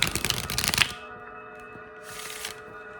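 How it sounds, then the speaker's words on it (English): Tarot cards being shuffled by hand, a dense crisp riffling burst for about a second, then quiet room tone and a second softer flurry of card shuffling near the end. "Alright, let's shuffle actually."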